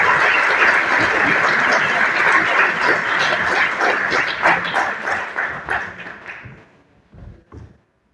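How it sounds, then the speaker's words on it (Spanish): An audience at the Risaralda Birds Festival applauds speaker Cristina Jaramillo, a sustained wash of many hands clapping that thins out into scattered final claps and fades away. "Creo que a Cristina hay que darle muchos más aplausos, por favor"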